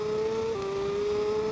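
The racing motorcycle engine in TT Isle of Man 2 holds a steady high-pitched whine at constant, loud, close volume, with a slight pitch dip partway through.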